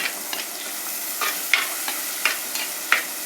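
A thick cooking mixture keeps frying in oil with a constant soft sizzle, broken by a handful of sharp spatula scrapes and taps against the pan as it is stirred.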